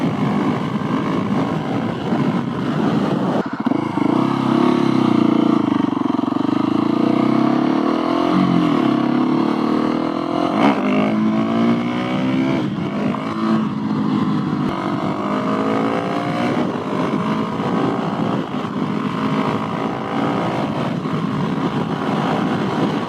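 A loud Husqvarna 701SM motorcycle with a Leo Vince Nero aftermarket exhaust revs up and down repeatedly, its throaty pitch rising and falling close by, with no talking.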